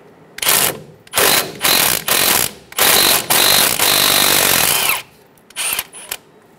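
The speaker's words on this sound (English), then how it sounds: "Using a 10mm socket, remove the bolt for the ABS bracket." A 10mm socket on a ratchet removes the ABS bracket bolt on a Toyota Tacoma front brake, with loud, close bursts of ratcheting and spinning that stop and start several times and then a few shorter clicks.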